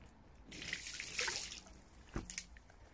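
An animal slipping into a backyard swimming pool in the evening, a brief splash and swirl of water followed by a couple of small drips and plops, close and quiet.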